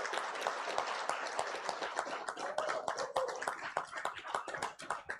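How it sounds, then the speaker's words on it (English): An assembly audience gives applause to a youth drum group: dense, moderately distant clapping that holds steady for several seconds before thinning slightly near the end. "And I want all of us here to give them a big round of applause."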